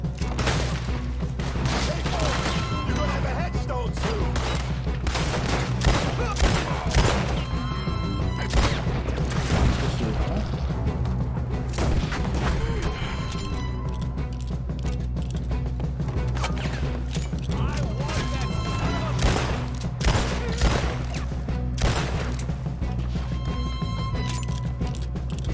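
Continuous gunfire and impacts from the Red Dead Redemption 2 video game, dense repeated shots over a steady low background with game music, with a voice talking at times.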